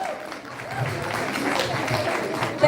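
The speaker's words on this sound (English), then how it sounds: "And a big round of applause again" Distant, muffled audience applause and cheering for a speaker at a motivational event, a steady, low-level crowd wash that holds throughout.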